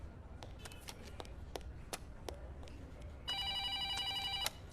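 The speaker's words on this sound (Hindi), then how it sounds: "डीसीपी साहब का फोन।" A telephone rings in a police office during a suspense thriller scene, a bright electronic ring of several tones arriving late and holding steady for about a second over quiet room noise, with small clicks and taps before it.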